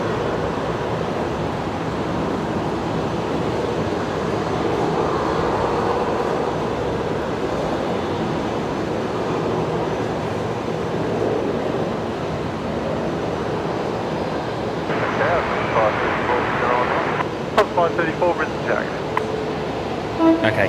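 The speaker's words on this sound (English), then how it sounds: "Jetstar 758 coming in from Hobart here on runway" A Jetstar airliner arriving from Hobart lands on runway 01 right at Brisbane Airport, a sustained distant jet roar that swells and holds, with people chatting over it.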